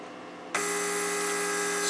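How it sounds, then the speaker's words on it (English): A Mercedes door lock vacuum pump, switched on for a bench test after repair, kicks in abruptly with a steady high-pitched electric buzz that continues without pause. "I'm gonna put the power on, and the pump is gonna start working now."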